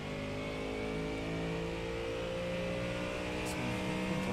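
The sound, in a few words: Ford Mustang GT3 engine revving in iRacing video game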